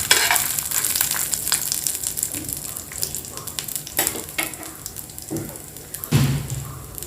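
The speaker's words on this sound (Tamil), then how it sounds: "இந்த மாதிரி கொஞ்சம் கிளறி விட்டுக்கோங்க" Dried red chillies fry in oil in a pan for peanut chutney, a steady close sizzle broken by a few scraping stirs.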